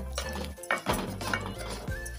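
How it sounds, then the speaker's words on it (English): A spoon stirs rice into vegetable cooking oil in a metal pot, giving close clinks and scrapes against the pot over a low steady hum. "I'm just going to add it inside the vegetable cooking oil and stir together the rice with the oil."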